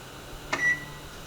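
A kitchen timer gives a single short, clear electronic beep as it is reset while vegan mint jelly with pectin heats on the stove, the tone standing alone against a quiet room hum.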